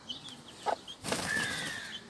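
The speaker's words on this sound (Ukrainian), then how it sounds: "де в нас гуляють курчатка а біля них квочечка" Soft clucking and faint chirping from a brooding hen and her chicks nearby, with a brief rustle of movement, in a garden.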